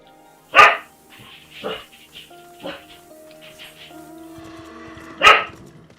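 A pet dog gives a few sharp barks, spaced apart, loud and close, with whiny tonal noises and game-like sounds in between.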